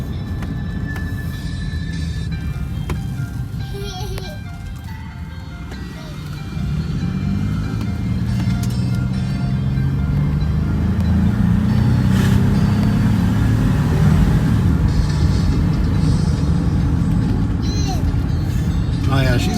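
A 2011 Jeep Liberty KK on the road, its engine rising as it pulls away and accelerates, a steady close drone of motor and tire noise that swells partway through and holds loud.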